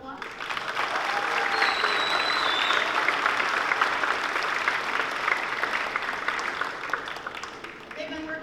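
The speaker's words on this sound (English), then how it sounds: "Can you give them a round of applause?" Audience applause for a 7th grade school band at a spring concert, steady dense clapping filling the hall for several seconds without pause.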